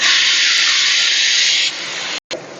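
Tomato and green chilies hiss steadily as they sauté in plenty of oil for a fish curry. A loud, even sizzle drops in level near the end, then cuts off for a moment and resumes.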